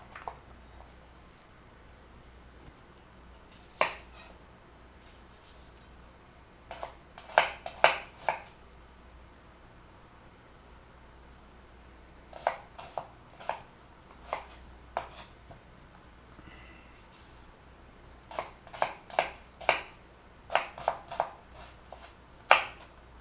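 Vegetables for gazpacho being chopped on a cutting board with a knife, coming as sharp, irregular knocks in short bursts and clusters separated by quiet pauses.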